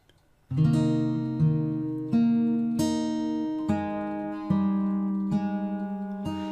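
Slow fingerstyle acoustic guitar passage from a piece, individual plucked notes ringing out one after another in an even, unhurried rhythm, close and clear with no talk.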